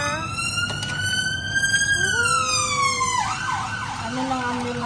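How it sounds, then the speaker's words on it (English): An ambulance siren wails loudly and sweeps down in pitch as it passes, then carries on more faintly with a lower tone, with London traffic noise beneath. "the ambulance passing by"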